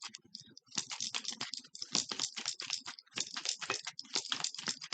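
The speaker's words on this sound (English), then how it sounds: "Sorry, my bracelet's clicking against my watch, so I apologize for that noise." A metal bracelet clicks and rattles against a wristwatch in rapid, irregular bursts, close and fairly quiet, continuing steadily throughout.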